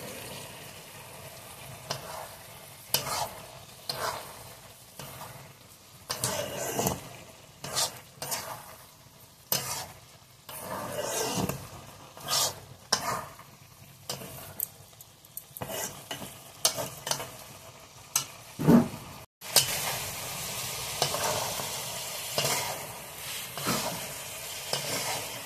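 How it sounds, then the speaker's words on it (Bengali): Fried pointed gourd being stirred and sautéed with chana dal in a pan, scraping stirs and bursts of sizzle coming in uneven waves, close and fairly quiet, with one brief knock. "ঢেলে দিয়ে ডাল আর পটল একসঙ্গে কষিয়ে নেব।"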